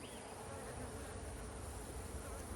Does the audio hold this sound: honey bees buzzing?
yes